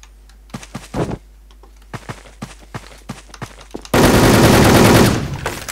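Gunfire in the online shooter game Wolfteam: sharp, close shots in scattered single pops and short bursts, then a loud continuous burst of automatic fire for about a second near the end.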